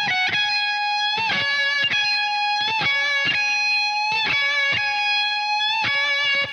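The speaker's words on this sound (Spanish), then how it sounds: "lo voy a tocar muy lento para que vean cómo suena." Slow electric guitar solo from a song, heavily distorted lead notes sustained and bent in a measured, repeating phrase, loud and close with no voices.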